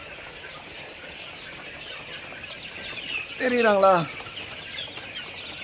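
Young chicks feeding at troughs cluck in a brief, close burst of chirpy calls partway through, over a quiet farmyard background, with a voice speaking briefly.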